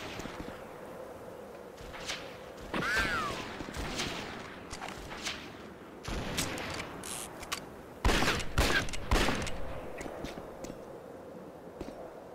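Gunfire rings out in the Red Dead Revolver video game, with scattered sharp cracks and bursts of several rapid shots at varying distances over a low ambient background, with no voices.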